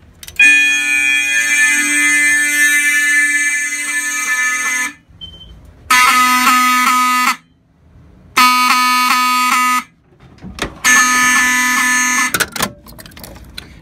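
A newly installed building fire alarm blares after a pull station is pulled down, sounding loud, harsh, buzzy horn tones, first one long blast and then several repeated shorter pulses separated by brief silences.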